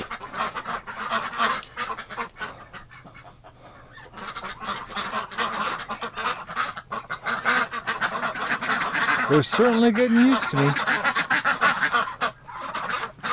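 Ducks and geese honk and quack loudly and continuously at close range as they are fed in winter, with a voice talking briefly among the flock.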